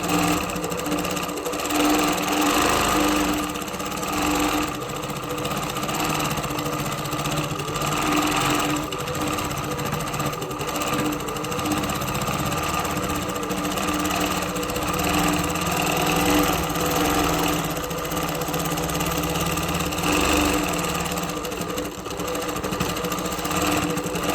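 A Handiquilter Moxie longarm quilting machine runs continuously at close range, a loud steady motor whir with a rapid needle chatter that holds an even pitch throughout.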